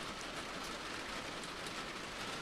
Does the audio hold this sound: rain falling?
yes